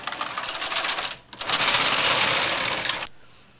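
A knitting machine works rows of English rib, the carriage sliding across in two long, loud, rasping sweeps with a brief gap between them, close up and without speech.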